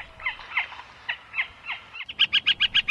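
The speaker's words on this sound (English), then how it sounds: "Gila woodpecker." A Gila woodpecker calls in the Sonoran Desert with a run of chirping notes, then a rapid, even series of about seven loud, sharp calls close by, with no talk.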